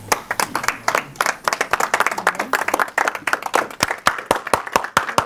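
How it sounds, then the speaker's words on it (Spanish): A church congregation clapping loudly and steadily in a dense, slightly rhythmic patter, with voices calling out underneath. "Un aplauso al Señor, ¿no?"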